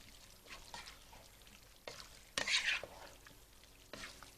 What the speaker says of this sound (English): So I'm going to stir all of that in.